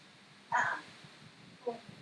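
A dog gives two short barks indoors, the first louder and sharper, the second softer and briefer, close by against a quiet room background.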